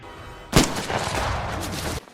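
A single loud gunshot rings out in a 2011 mercenary action film, set deep in a forest during a chase, where a man is shot in the leg, followed by a rumbling echoing tail that lingers and then cuts off abruptly.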